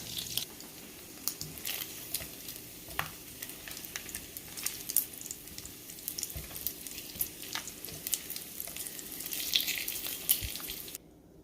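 Bacon frying in a pan, a steady close crackle and sizzle of popping grease with sharp spits scattered throughout, continuous and fairly loud, with no talking.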